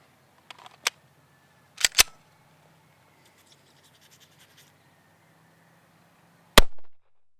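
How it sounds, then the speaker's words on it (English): An HK USP handgun fires a few sharp, isolated shots spaced seconds apart, each a sudden loud crack with quick decay, separated by near silence and faint handling clicks. "Let's shoot it right now and see what we got."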